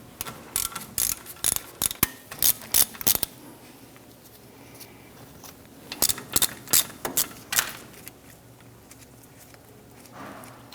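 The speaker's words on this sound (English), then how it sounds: "we want to go ahead, loosen and remove the two slide pin bolts" A ratchet loosening the brake caliper slide pin bolts on a 1997-2006 Jeep Wrangler, two close bursts of rapid clicking separated by a quieter pause.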